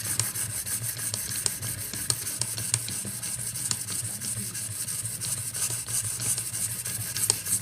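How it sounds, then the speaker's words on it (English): A Benchmade 13940 knife blade being sharpened on a stone, with a soft continuous scraping hiss and faint repeated strokes, close and steady throughout. "I'm going to do a little spot sharpening right there and blend it in and do some forward passes"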